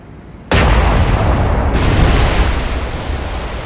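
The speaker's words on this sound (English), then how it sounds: "secondaries is going to start firing star shells again" Naval guns fire star shells in the War on the Sea naval combat game: a sudden loud boom at about half a second, then a long rumbling roar that stays heavy and only slowly fades.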